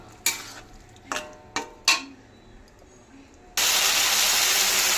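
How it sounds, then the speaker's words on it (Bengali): A spice masala paste fries in oil for a bhangar fish kalia, with four sharp spoon scrapes and knocks against the pan over a low sizzle, then a sudden loud, steady hiss of frying. "তেল ছাড়া অবধি আমরা মশলাটাকে ভালোভাবে কষিয়ে নেব"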